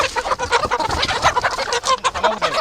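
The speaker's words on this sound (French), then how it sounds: "Marché de volailles d'Abengourou." A busy poultry market in Abengourou, with many chickens clucking and squawking over one another in a dense, loud, continuous chorus from close by.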